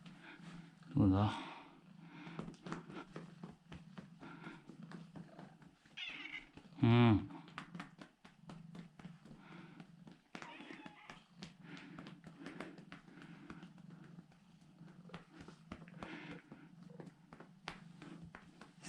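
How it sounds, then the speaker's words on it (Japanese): Cats being patted on their rears like drums, soft repeated pats in an irregular rhythm close by, with two loud meows and someone speaking quietly between them. "黒の尻をポンポンするか。"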